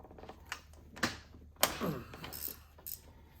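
A ratchet or wrench works a 15 mm stud loose on a 6.4 Hemi engine, giving sharp metallic clicks and clanks in uneven bursts, close up, with a scraping rattle in the middle.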